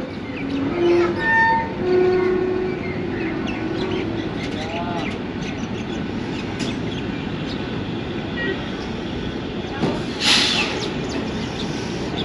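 The 48 Down Rehman Baba Express, a train with new coaches, rumbles steadily past with rail noise and short horn-like tones, while birds call faintly and voices are heard in the background.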